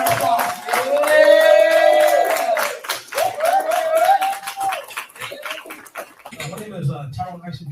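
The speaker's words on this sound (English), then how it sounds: "Y'all give a round of applause." A crowd claps and cheers at a village board meeting in Dolton, with steady applause mixed with raised, excited voices for several seconds before it fades into talk.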